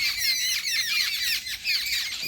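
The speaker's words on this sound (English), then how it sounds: "Their calls are a lively mix of chatters, squeaks, and chirps." Jungle babblers (Argya striata) keep up a dense, harsh chorus of overlapping squeaky chatters and squawks, loud and continuous with no other sounds.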